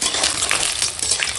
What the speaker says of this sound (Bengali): আর দেখো এখন ডিম ভাজা হয়ে গেছে